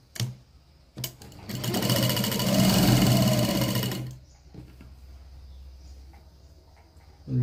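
A sewing machine stitches a lined blouse close by, with a couple of quick taps before one steady humming run of about two seconds, then a low quiet hum.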